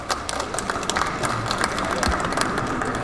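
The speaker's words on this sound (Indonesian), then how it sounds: "Kita kasih aplaus buat pembicara yang pertama." Audience applause for the first speaker at a seminar on precast and prestressed concrete products, a steady, dense patter of many hands clapping at moderate volume, continuing through the whole stretch with no talk over it.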